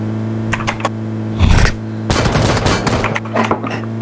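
Rapid bursts of automatic gunfire from the video game PUBG Lite, loud and close, with a short volley followed by longer sustained strings of shots over a steady background hum.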